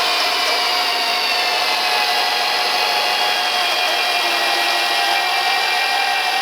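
A magnetic drill bores steadily through steel for a tiny-house trailer foundation, giving a loud, continuous high whine with dense motor hum and no pauses.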